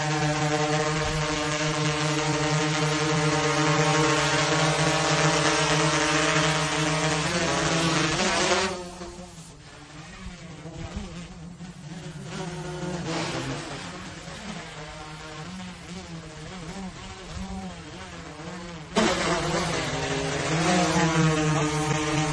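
A DJI Inspire 1 drone flies and hovers outdoors with a steady, close, loud propeller buzz. The pitch shifts and dips briefly partway through as it manoeuvres.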